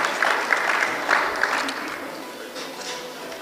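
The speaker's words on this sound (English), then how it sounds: "your applause would really motivate them to continue striving" Steady applause from an audience at a convention prize distribution ceremony, dense clapping that gradually thins and softens toward the end.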